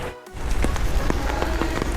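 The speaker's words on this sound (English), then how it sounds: "along came a rain shower, and I have found refuge under my umbrella" Rain shower pouring steadily on a resort grounds, a dense continuous hiss of drops striking surfaces close by, loud and alone with no voices.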